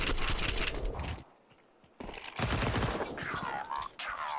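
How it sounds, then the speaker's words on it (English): Rapid bursts of automatic rifle fire in a Counter-Strike match, loud and close, with a brief pause before another dense burst and more shots, mixed with mechanical weapon clatter. "Conserves just the right amount of bullets to get one more burst in"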